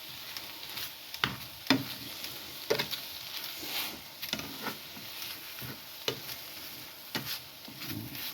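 Curry being stirred in a hot pan, a soft continuous sizzle broken by repeated scraping and knocking strokes of the spoon at an uneven rhythm, close and moderately quiet with no talking.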